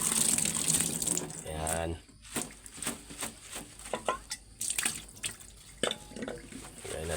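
Sambong leaves washed under cold running tap water, a steady gush with splashing and dripping, close up, while a person speaks briefly.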